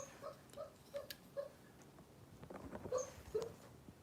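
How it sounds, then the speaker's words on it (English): A sleeping dog whimpers in its sleep while dreaming, a run of soft, high, evenly spaced little whines, faint and close, with quiet rustling and clicks between them. "The dog is having a dream."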